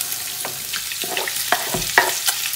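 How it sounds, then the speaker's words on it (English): Diced onion, grated carrot and bacon frying in hot oil, a soft sizzle broken by several sharp stirring scrapes and clicks, close up with no voices. "Here I've got a diced onion, a grated carrot, and two of those rashers of bacon."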